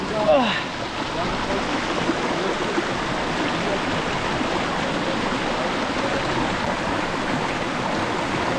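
Water of Tugga waterfall in Purulia rushing steadily nearby, a dense, even hiss-like roar that stays constant throughout with no talk, after a brief faint whistle-like sound at the start.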